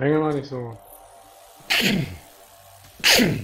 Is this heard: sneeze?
yes